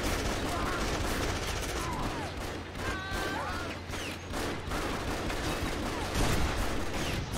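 Gunfire in Afterfall Insanity, a dense, continuous clatter of shots and impacts that stays loud and busy from start to finish amid a chaotic fight.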